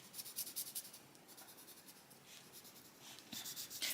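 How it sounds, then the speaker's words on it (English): Colouring pencil held on its side, laying a light layer of dark brown onto paper, making soft, steady scratchy shading strokes in quick rhythmic bursts, close and fairly quiet with no voices. "So I'm using my pencil on its side I just want to get some colour down"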